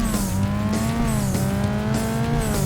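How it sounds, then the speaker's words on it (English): In the racing video game Burnout 2, a loud car engine roars steadily while tires squeal in repeated rising and falling sweeps, all close and continuous. "this is a much louder engine"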